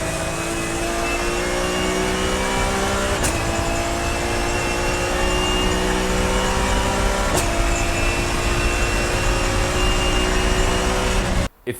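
An E46 M3 with the S54 engine runs under load, its straight-cut gears producing a steady whine over engine drone, with rising tones as it accelerates through two gear changes before cutting off abruptly at the end.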